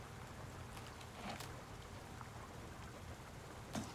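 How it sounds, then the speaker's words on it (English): Rain falls in the survival game Icarus as a soft, steady patter with a few sharper drop hits, faint and even throughout, with no voices. "It's raining."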